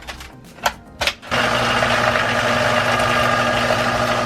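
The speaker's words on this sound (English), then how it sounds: "Into the mixer. Give it a little mix." An electric mixer beats an egg and extra yolk into chocolate chip cookie batter. A few short bumps and taps come first, then the motor starts up with a loud, steady, close whirring hum that continues to the end.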